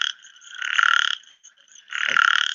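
Common frog croaking in two raspy, pulsed calls, each swelling and fading, heard close and clear with no talking.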